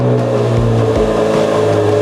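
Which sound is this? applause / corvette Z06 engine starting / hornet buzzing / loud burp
corvette Z06 engine starting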